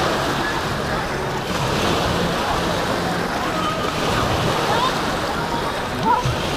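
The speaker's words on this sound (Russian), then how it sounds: "как раз начинается волна." An artificial wave rolls through a wave pool at the Atlantida water park in Yalta, Crimea, giving a continuous loud wash and slosh of churning water, with people talking nearby.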